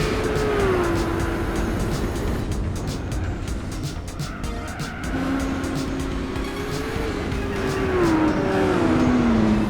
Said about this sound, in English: we're in an R34 Skyline going up against the Yellowbird and we're actually gaining quite a bit